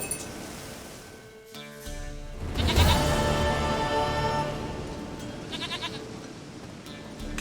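A goat in the video game The Witcher 3 bleats over a game soundscape of ambient tones and faint clinking, with a sharp bright burst in the middle.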